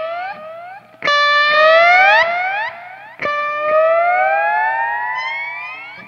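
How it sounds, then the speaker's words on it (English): Bright sliding notes from a Paoletti lap steel guitar with echoing delay repeats and lush reverb, swelling and gliding upward in two long phrases, loud and alone. "Those delay trails are just so much fun."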